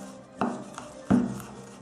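Two sharp knife chops mincing garlic cloves on a cutting board, close and distinct, separated by a short pause with a faint tap between them.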